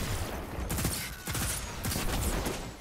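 Bursts of rapid hand cannon gunfire in the video game's Iron Banner mode crackle in a dense, continuous barrage, with several sharp volleys standing out over a noisy background.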